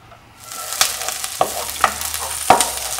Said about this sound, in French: Donc on laisse revenir un petit peu l'oignon